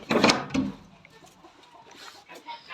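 Laying hens in a clean cement-floored henhouse, a couple of loud close clucks at the start, then fainter scattered clucking and rustling.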